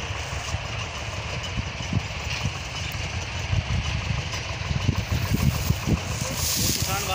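A Swraj 724 tractor engine runs with a reaper binder attached in a farm field, a steady low chugging drone that continues throughout with some rough, uneven rumbling, fairly close.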